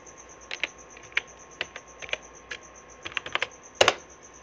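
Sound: typing text on a computer keyboard in MS Word

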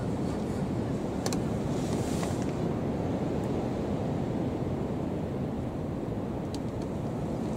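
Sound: wind blowing outdoors on a chilly day

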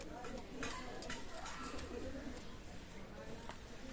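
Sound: pigeons cooing

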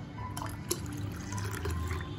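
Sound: water poured into pot for chana biryani

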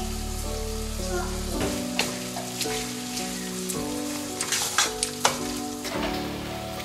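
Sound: eru stew cooking and sizzling in a pot

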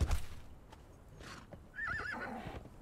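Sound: horse neighing while riding in Conan Exiles video game

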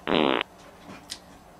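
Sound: fart

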